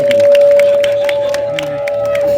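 An audience at a youth tournament final and awards night in Côte d'Ivoire claps and cheers steadily. The applause is loud and continuous, with crowd noise and a steady tone running underneath.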